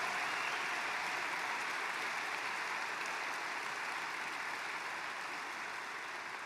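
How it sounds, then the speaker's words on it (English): A crowd at a US military air base in Qatar applauds troops of the Qatar Army and Armed Forces. The clapping is a dense, steady wash that stays fairly even and moderately distant for the whole stretch, with no voices over it. "Let's give them a really special hand."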